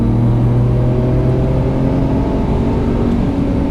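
Car accelerating at full throttle on a driving course, a loud steady engine roar with a rising tonal whine, close and continuous with no voices.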